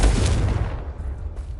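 Confringo spell blast from Hogwarts Legacy: one sharp, heavy explosive crack right at the start, fading quickly into a low rumbling tail.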